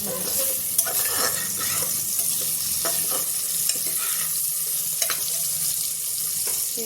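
Pieces of elephant foot yam frying in a pan, a steady dense sizzle with occasional crackles and stirring scrapes throughout, close and continuous with no talking.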